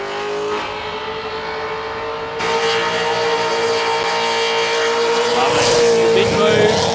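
A Commodore Ute race car engine screams at high revs, its sustained, tonal whine holding steady and growing slightly louder, with a commentator talking over it.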